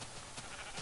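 A Minecraft sheep gives a short bleat from the game, heard faintly and alone in a quiet moment.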